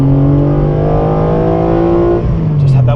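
A sports car on a track held high in its rev range, steady rising engine howl with strong harmonics that drops away near the end, close and loud, with a short voice at the very end.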